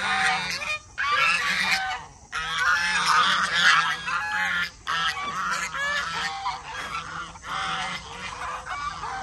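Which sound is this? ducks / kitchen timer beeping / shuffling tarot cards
ducks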